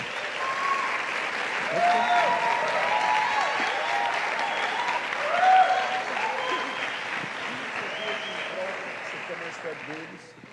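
Steady applause from a church audience at an EP launch, sustained for about ten seconds with a swell near the middle, while voices and cheers rise through it.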